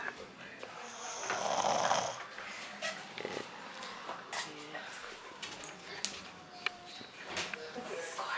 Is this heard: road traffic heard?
no